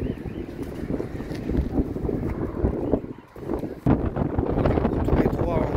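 Strong storm wind at a coastal spot in Mazarrón, Spain, battering the microphone with loud, continuous low roaring gusts and blowing sand, steady buffeting with a brief lull midway.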